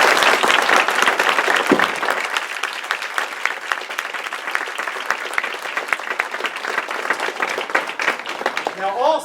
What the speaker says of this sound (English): as a group, I want to give them a little round of applause